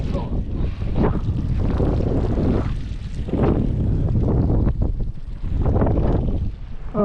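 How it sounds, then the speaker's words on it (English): Strong wind buffets the microphone beside a reservoir, a continuous roaring rumble with surging gusts throughout, loud and close, with a voice faintly present underneath. "Oh, this wind."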